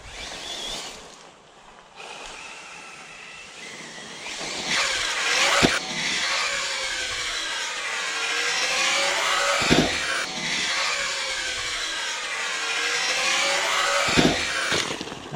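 An Arrma Typhon 6s RC car runs on a rough dirt track, its motor whine and loud differential noise rising and falling across repeated passes with sharp bumps and landings, fairly close and without talk.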